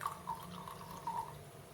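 Household vinegar poured into a jar of hot water, a faint, quiet trickle with a few soft drips heard close up, with no voices.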